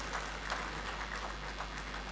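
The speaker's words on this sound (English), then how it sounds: "Or you want to keep clapping until she comes up?" An audience at the National ICT Week opening session claps continuously, a soft, even patter of many hands heard at a distance.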